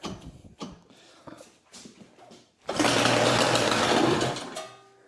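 A racing speedway snowmobile engine is pull-started, with a few scattered pulls and clatters before it pops into a brief, loud buzzing run of about a second and a half, then dies away.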